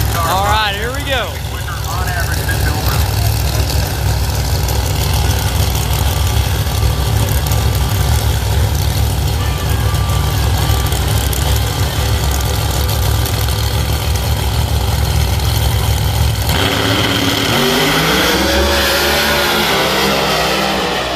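Drag race cars at a Pro Mod event, including a blue third-gen Camaro with a big screw blower, rev loudly and steadily for about sixteen seconds before launching into a sharp roar, with an announcer talking over them throughout.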